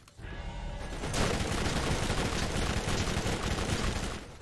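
A rocket launcher fires in the video game Borderlands, a sharp launch followed by a loud, sustained roar of blasts and gunfire filling the scene, with no talk.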